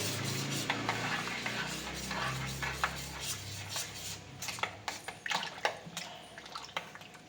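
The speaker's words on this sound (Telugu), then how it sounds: "పాలల్లో పౌడర్ వేసిన తర్వాత స్పూన్తో బాగా కలపండి" Spoon stirring milk powder into milk in a vessel, with a swirling liquid wash first, then a run of sharp clinks and scrapes against the container, close and without talk.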